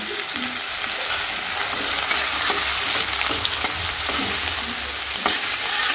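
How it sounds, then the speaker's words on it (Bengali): Chopped garlic and ginger, with cumin, frying in hot oil in a pan for Bengali-style tadka dal, giving a continuous close sizzle dotted with small crackles and light stirring clicks, no voices. "রসুন কুচি দিয়ে দিলাম"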